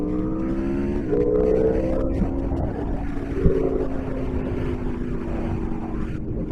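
A sportbike engine revs hard, its tone climbing in pitch and then holding at a steady, loud roar close to the microphone, with no talking.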